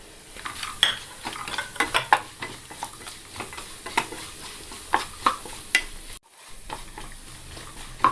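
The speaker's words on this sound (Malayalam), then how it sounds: "അതിലേക്ക് നമുക്ക് നട്ട്സ് ഇട്ട് കൊടുക്കാം." Nuts and coconut pieces fry in a pan for Vishu ari payasam, a steady sizzle punctuated by repeated clinks and scrapes of a stirring spoon, close and alone with no talk.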